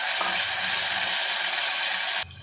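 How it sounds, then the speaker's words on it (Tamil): Curry leaves frying in hot oil in a pan, a loud, dense, steady sizzle and crackle held up close for about two seconds before it suddenly drops away. "கருவேப்பிலை நல்லா பொரியுது பாருங்கள்"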